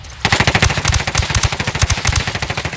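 Rapid automatic gunfire from a Ghost Recon Ghost War multiplayer match, loud and close, bursts of shots in a fast uneven rhythm after a brief quiet start.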